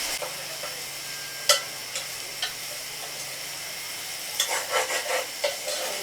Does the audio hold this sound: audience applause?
no